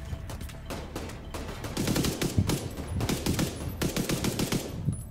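Rapid automatic gunfire in The Division 2, a dense rattle of bursts that grows louder and steadier after the opening seconds, continuing without pause and with no voices over it.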